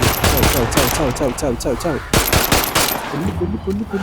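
Rapid automatic gunfire in the dinosaur horror game Ferocious: a regular burst of close, punchy shots for about two seconds, then a few scattered rounds, with a voice faintly underneath.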